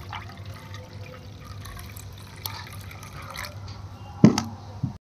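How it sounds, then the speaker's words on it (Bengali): Flattened rice (chire) is rinsed with water, giving faint, close drips and small splashes of liquid that end with a brief louder slosh. "চিড়েগুলো আমি এইভাবে দেখতেই পাচ্ছেন সাদা করে ভালো করে ধুয়ে নিয়েছি"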